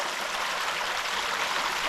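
Creek water pours steadily down a small rock chute on a little creek above a waterfall, a close, continuous rushing splash with no voices.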